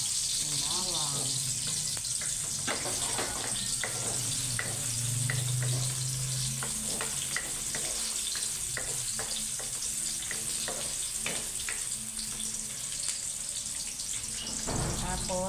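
Garlic frying in cooking oil in a pan makes a soft, continuous sizzle with scattered pops and stirring clicks throughout, fairly quiet and close.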